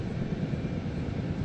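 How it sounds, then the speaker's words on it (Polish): A helicopter in a Minecraft mod flies with a steady, droning rotor and engine rumble, constant and fairly loud with no pauses or talk. "O, to jest dobry helikopter, przez drzewa przelatuje."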